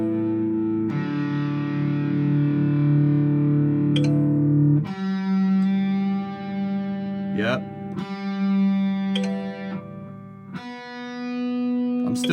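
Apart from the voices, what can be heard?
electric guitar being tuned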